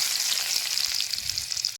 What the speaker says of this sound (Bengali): জিরা রসুন ভাজা হয়ে গেছে